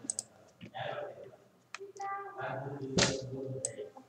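Mouse clicks in the Scratch coding editor on a computer: a few sharp, close clicks scattered over a few seconds, the loudest near the end, with a voice and faint background sounds around them.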